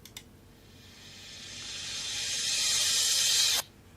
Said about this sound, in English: And then I want a reverse cymbal.